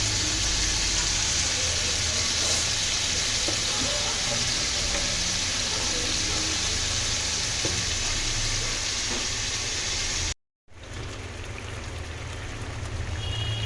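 Soft fish frying in a pan gives off a steady, loud hiss and sizzle with faint crackles. It runs unbroken for about ten seconds, cuts out briefly, then resumes.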